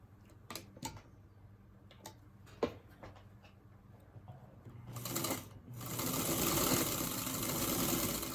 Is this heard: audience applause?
no